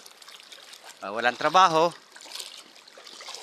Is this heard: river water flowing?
yes